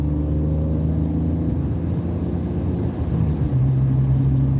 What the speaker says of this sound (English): Hear that engine though?